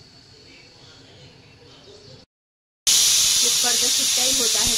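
A pressure cooker whistles loudly while chicken cooks in a home kitchen, a steady hissing blast that begins abruptly after a short silence and continues with some voice in the background.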